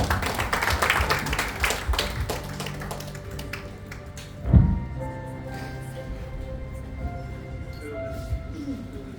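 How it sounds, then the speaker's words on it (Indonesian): Applause from a church congregation during a worship service, scattered clapping at the start that fades under a sustained hum and a single loud thump midway. "Mari kita berikan tepuk tangan."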